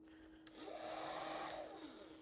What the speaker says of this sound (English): I got this hair dryer. I'm gonna put it on the lowest setting